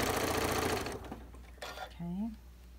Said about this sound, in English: And then I'm going to sew over that very thick seam.